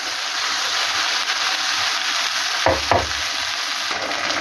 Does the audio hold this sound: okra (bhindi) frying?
yes